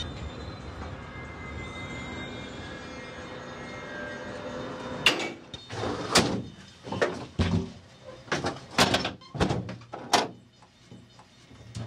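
Doors sliding open on a VIA Rail passenger train, The Canadian, in winter: a steady rumble of the stopped train, then a run of clattering knocks and thumps as doors and fittings move, with no talking.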